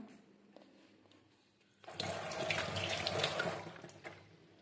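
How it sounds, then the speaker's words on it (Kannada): Lukewarm water is poured over vegetables for fermenting. After a quiet start, a strong, steady gush of running water begins partway through, holds for about two seconds, then tapers off, with no speech. "ಇವಾಗ ನೋಡಿ ಬಿಸಿ ನೀರು ಹಾಕ್ತಾಯಿದ್ದೀನಿ. ಅಂದರೆ ಬಿಸಿ ಅಲ್ಲ, ಲುಕ್ವಾರ್ಮ್ ವಾಟರು."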